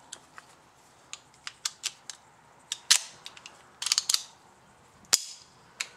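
A Lorcin .22 LR pistol fires a string of sharp, close cracks at irregular spacing, with the action cycling after each shot and small metallic clicks between them.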